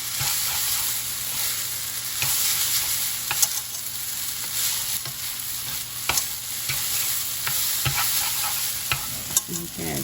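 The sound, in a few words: stir-frying beef noodles in oil in a pan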